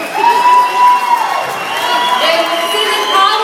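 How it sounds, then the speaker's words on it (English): A crowd at a company holiday party cheers and whoops, with high shouting voices rising and falling over light clapping, loud and lively throughout. "you guys deserve an applause"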